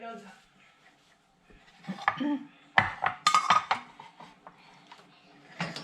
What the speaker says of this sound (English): I'm going to mash the potatoes